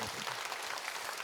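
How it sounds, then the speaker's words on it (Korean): A brief, even burst of audience clapping at a church conference talk, a dense wash of many hands lasting just over a second. "박수 한번 쳐주세요."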